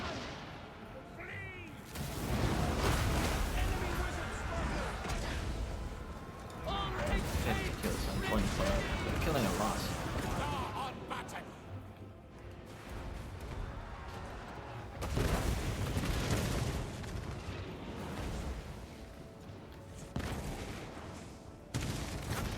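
Massed ranged units firing in a Total War: Warhammer 2 battle, dense continuous volleys of gunfire and explosive blasts rolling in heavy waves, with voices talking over the din.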